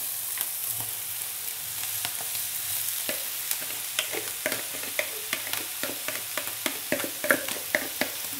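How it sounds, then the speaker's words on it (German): Carrots and pointed cabbage fry in a pot with a steady sizzle, broken by repeated scraping and clacking strokes of a spoon being stirred through the vegetables, close and fairly loud, with no talking. "Immer mischen."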